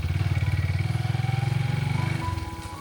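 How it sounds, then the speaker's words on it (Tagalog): A motorcycle rolls slowly downhill on a slippery road damaged by a landslide, its engine giving a close, steady low-speed putter that eases off near the end. "Naka-lower talaga yung motor nila. Naka-low speed."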